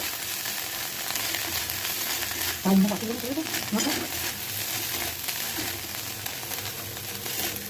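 Small shrimp pakoras frying in hot oil give a loud, continuous close-up sizzle that runs the whole time, with a brief low knock partway through.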